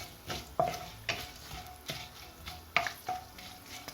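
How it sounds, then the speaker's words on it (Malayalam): Green chili, ginger and garlic fry quietly in a pan while being stirred, giving soft sizzling with a rhythmic series of scraping strokes at close range. "നമുക്കിനി ഇതിലേക്ക് പച്ചമുളക്, ഇഞ്ചി, വെളുത്തുള്ളി ഇതിട്ട് ഇതൊന്ന് നന്നായിട്ടൊന്ന് ഫ്രൈ ആയി കഴിയുമ്പോൾ"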